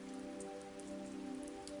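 Steady rain falling and pattering on a surface, a soft, even wash with faint scattered drops and a low hum beneath it, quiet and continuous.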